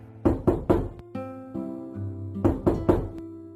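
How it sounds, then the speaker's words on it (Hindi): Knocking on a door: two bursts of three firm, evenly spaced knocks separated by a pause, close and distinct, with a low tonal drone sounding between them. "फिर आधी रात में उसके घर में भी बूढ़ी माई आई और दरवाजा खटखटाया।"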